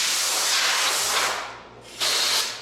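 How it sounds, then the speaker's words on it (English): Compressed air blowing onto a metal hood filler panel to cool it, two loud close hissing bursts with a short dip between them. "blow inside this cavity or just around the area"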